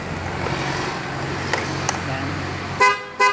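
A car fitted with a Euro Model T150 dual contact horn gives two short, loud toots close by near the end, after a stretch of idling engine hum and background noise.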